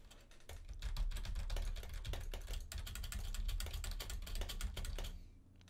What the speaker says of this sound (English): Now here's a demonstration of some keyboard noise.